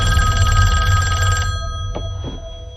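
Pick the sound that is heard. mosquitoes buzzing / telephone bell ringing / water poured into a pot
telephone bell ringing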